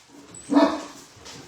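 A single dog bark rings out at close range in a domestic setting, with faint room noise before and after it.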